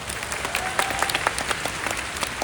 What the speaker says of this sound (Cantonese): 我講完之後，大家俾掌聲就可以俾掌聲啦